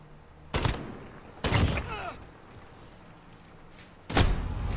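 SKS rifle shots ring out in an online shooter video game, three loud sharp cracks spaced apart over background game noise.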